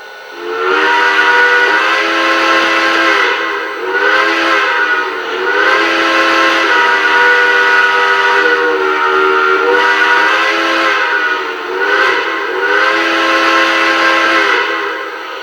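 A model train steam whistle, modeled on the M1A's, from a Lionel Legacy Pennsylvania Railroad S1 Duplex sounds in several long chime-like blasts with brief breaks between them, loud and close, with no voices.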